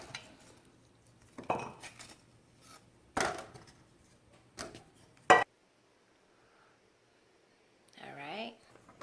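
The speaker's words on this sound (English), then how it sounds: "get ready to get your coconut out of its shell" Fresh coconut being worked out of its shell, heard as a few sharp knocks and scrapes of a metal utensil spaced apart in a quiet room, with a voice briefly speaking near the end.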